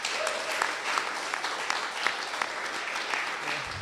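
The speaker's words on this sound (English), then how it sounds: "Let's hear another round of applause for all our contestants tonight." An audience claps for the contestants at a comedy show, a dense, steady burst of applause that lasts the whole stretch with no voices standing out.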